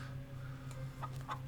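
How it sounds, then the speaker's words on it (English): Faint, weak clucks from chickens hidden in a bush in the video game Scarlet Hollow, two or three soft calls over a low steady hum. "a series of weak clucks calls out from a nearby bush"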